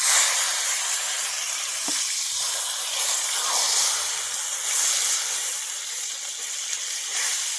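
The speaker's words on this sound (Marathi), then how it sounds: "मासा आपला चांगला मस्त एका बाजूनी तळला गेलाय बघा" Tamboshi fish fries in a pan over a wood-fired stove, giving a loud, steady, close hiss and sizzle that runs unbroken throughout, with a faint clink partway through and no one speaking.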